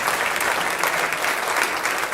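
A reception audience claps for speakers in a dense, sustained round of applause, many hands at once, steady and fairly close throughout.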